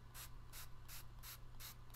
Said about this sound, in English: you simply spray the water on the colors